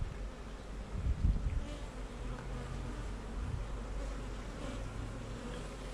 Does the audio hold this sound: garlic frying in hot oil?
no